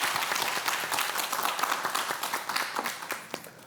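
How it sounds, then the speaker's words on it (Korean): Studio audience applause on the KBS morning talk show Achimmadang, brisk clapping from many hands with individual claps standing out, holding steady and easing off toward the end. "이재혁 교수님의 수업 큰 박수로 청해 듣겠습니다"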